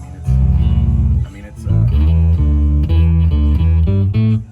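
An ESP Ltd B-208SM eight-string bass guitar plays a run of deep, close plucked notes with chord-like doubled tones, steady and loud, with a brief pause near the start.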